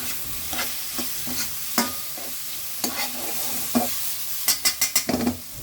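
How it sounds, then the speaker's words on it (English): Raw prawns sizzle in a pan over a high gas flame for manchow soup. A hissing fry sits under repeated sharp spatula clacks, ending in a quick burst of five or six knocks. No speech. "we are going to have gas on high flame. In goes the raw prawns."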